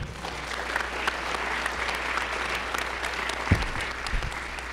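Audience applause at a New York City Bar Association event, steady dense clapping from a roomful of people held at an even level throughout, fairly distant and with no voices over it.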